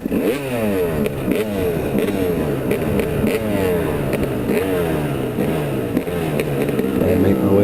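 Dirt bike engine on a snowy road, revving as the rider shifts up into fourth gear: loud, continuous buzzing exhaust with rising and falling pitch sweeps, close and steady throughout, with a faint rattle underneath.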